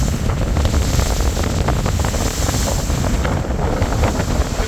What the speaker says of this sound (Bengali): সামনে কঠিন বাতাস